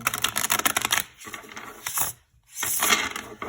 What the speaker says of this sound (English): it's really fun and easy to shuffle this deck.